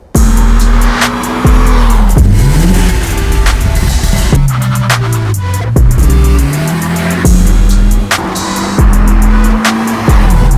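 A B58-swapped BMW E46 Touring with a stainless steel catback exhaust drives hard, its engine loud and close as revs rise and fall through shifts, with brief pauses and tire noise between pulls.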